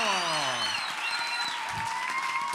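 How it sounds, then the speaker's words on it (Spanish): Applause in a studio talk-show setting after a sung number, steady clapping mixed with sliding musical tones and scattered cheering, moderately loud throughout. "¡Fuerte el aplauso!"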